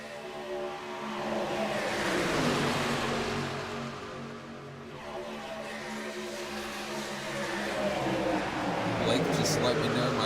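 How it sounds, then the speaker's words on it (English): Race truck engine in iRacing at Daytona superspeedway, a loud sustained roar that swells, dips briefly and builds again with shifting harmonic tones, close and continuous with no pauses. "my car audio is way too loud compared to me"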